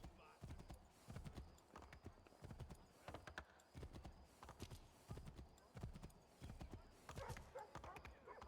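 Horse hooves clip-clop at a galloping pace in the video game Assassin's Creed III, a steady rhythmic run of hoofbeats heard close and quiet under a low background.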